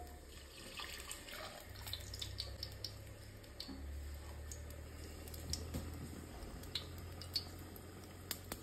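Rice-washing water pours into a cooking pot of marinated rice, a quiet, steady stream of splashing and trickling over a low background hum, with scattered small clicks and no voices.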